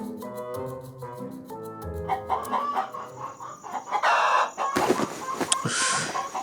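A rooster crows in a long, loud, drawn-out call, followed by brisker clucking and farmyard noise, with no voices.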